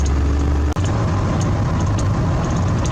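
Car with modified fuel pin accelerating at a quarter to half throttle, a steady loud engine drone that shifts lower after a brief dip, heard alone without talk.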